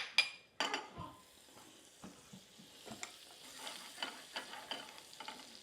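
Butter melting in a frying pan coated with a thin layer of oil over medium-low heat, a soft steady sizzle with scattered crackles and a few sharp clinks and scrapes of a utensil stirring near the pan.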